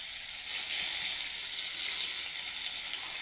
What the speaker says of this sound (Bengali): আর এটাকে কিন্তু অল্প তেলে ভাজতে হবে